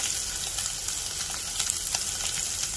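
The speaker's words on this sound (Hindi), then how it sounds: "उनको थोड़ा रोस्टेड पनीर पसंद है, तो उसके लिए हम कर रहे हैं रोस्ट" Paneer roasting in a pan with a steady, close sizzle and frying crackle that holds evenly throughout, with no talking.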